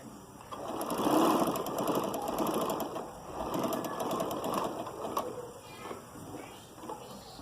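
A sewing machine stitches a thin strip onto a shirt sleeve, a close whirring motor run with fast needle chatter that swells in two bursts and then tapers off.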